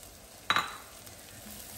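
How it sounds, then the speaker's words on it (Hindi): Butter-melted mushrooms drop into a hot pan with a short burst of sizzling and frying that fades into a low, steady hiss, close and fairly quiet. "बटर मेल्ट हो गए, इसमें हम मशरूम्स डालेंगे अपने सारे"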